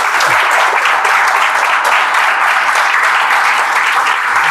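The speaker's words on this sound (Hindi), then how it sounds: "ताली बजा दीजिए भाई।" A seated audience gives continuous, loud applause for a village's first IIT graduate, a dense steady clapping that holds from start to finish.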